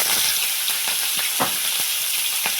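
Mustard seeds, curry leaves, asafoetida and green chillies crackle and sizzle in hot oil for khata dhokla tempering, a steady loud hiss broken by sharp pops of bursting seeds.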